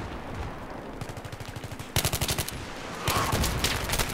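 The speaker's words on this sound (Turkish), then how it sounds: "Abi mermiler nereye gidiyor tarayınca ya?" Automatic weapons fire in Battlefield 3 in rapid bursts. A quieter stream of rounds is followed by two louder, harsher sprays with a short gap between them.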